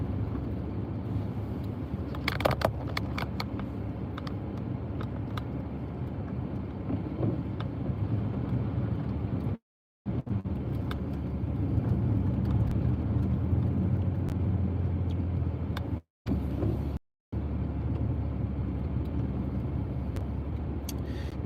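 A car drives slowly around the snow-covered Gettysburg battlefield in Pennsylvania, a steady low engine and road rumble with wind buffeting the microphone, broken by a few brief dropouts.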